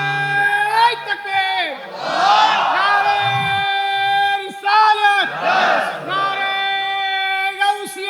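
A large crowd at a Bangla religious sermon gathering shouts a takbir chant in unison, loud sustained call-and-response bursts echoing through amplified speakers, led by a preacher's voice.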